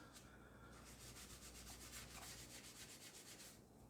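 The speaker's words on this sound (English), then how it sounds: "I'll just rub the spoon over and then I'll swill them off" An Aldi Dishmatic sponge scrubber rubs over a metal spoon with a soft, rhythmic scratchy swishing at close range, quiet and steady, ending in a brief sharp knock.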